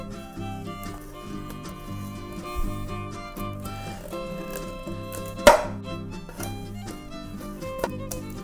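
A kitchen knife slicing through fish being prepared for Mexican-style frying makes crisp, repeated cutting taps on a board, with one louder knock near the middle and music playing throughout.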